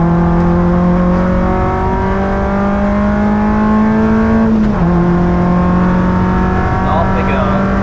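A Peugeot 106 engine on the Nürburgring drones loudly from close by, its rising note broken by a quick downshift, with a voice talking over it.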